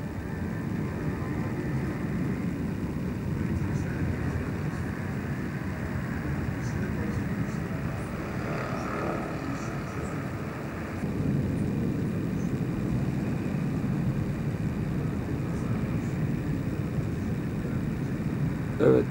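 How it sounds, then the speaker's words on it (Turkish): Jet aircraft taking off from Adana airfield at night, a steady distant roar of engines that swells slightly partway through and continues without letting up; no one speaks over the drone. "10 dakika içinde Adana Hava Meydanı'ndan tam 3 tane uçak üst üste kalktı."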